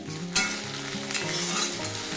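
Chopped onions and cashews sizzle steadily in a hot pan of oil for an egg curry, with a continuous close crackle and occasional stirring scrapes.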